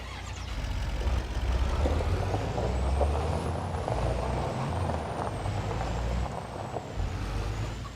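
A heavy truck in the Farming Simulator 25 video game rumbles steadily at close range, its engine droning with hissing air-brake releases and faint high tones over the top.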